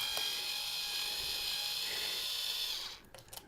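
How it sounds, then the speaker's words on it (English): Small screws being taken out of a Honda VFR800 motorcycle dash, giving a steady, loud high-pitched mechanical whine for about three seconds before it cuts off into a few light clicks and taps. "so we're going to dismantle these little screws, and it's just literally just take them all out,"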